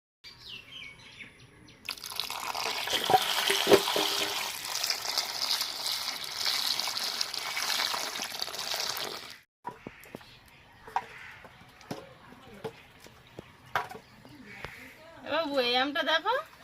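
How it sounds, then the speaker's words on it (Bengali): Mangoes rinsed under a running kitchen tap, a steady broad gush of water lasting several seconds, followed by quieter handling and clatter with people talking nearby. "আমগুলো ধুয়ে নেব।"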